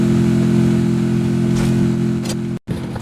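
A car engine in a mobile shooter video game drones loudly and steadily at a constant pitch, briefly cutting out near the end before resuming.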